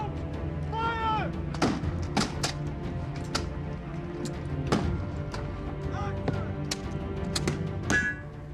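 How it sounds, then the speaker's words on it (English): Booming cannon blasts and sharp musket shots crack out repeatedly across a busy outdoor battle reenactment, with distant shouting and a steady low rumble underneath. "you have cannons exploding and muskets firing"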